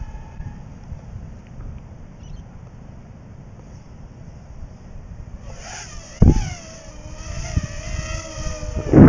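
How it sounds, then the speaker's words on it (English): A 720 micro motor, a tiny brushed hobby motor, spins up at full throttle with a high, thin whine that rises sharply after a quiet stretch and holds with slight pitch wobble, close and fairly loud. "Nice, quick little motor."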